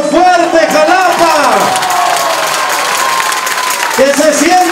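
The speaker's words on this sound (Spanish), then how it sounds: "¡Le damos un aplauso fuerte, Jalapa!" A crowd at a candidate registration event for a local deputy seat in Xalapa applauds and cheers loudly, with whoops over the clapping, while an amplified voice speaks over it at the start and end.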